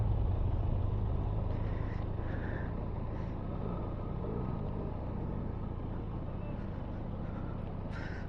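A Benelli TRK 502 adventure motorcycle rolling slowly off-road with the clutch untouched, a steady low engine rumble with faint rattles over it, continuous and close.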